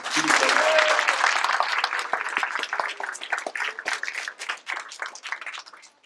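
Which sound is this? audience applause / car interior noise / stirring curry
audience applause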